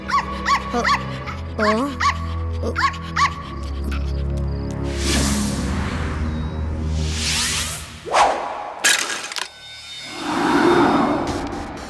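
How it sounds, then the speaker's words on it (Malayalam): A dog barks several times in quick bursts in an animated cartoon, then whooshing and clattering sounds follow, with a few sharp knocks near the end. "എന്തിനാ ഇങ്ങനെ കുരയ്ക്കുന്നത്?"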